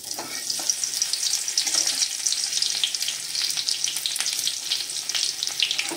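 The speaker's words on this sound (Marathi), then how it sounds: "आता आपण त्याच्यामध्ये टाकूया लसूण चेचलेला" Crushed garlic dropped into hot oil with already roasted cumin seeds, crackling and sizzling steadily in a pan for a tomato bhaji, close and continuous with light stirring and no voices.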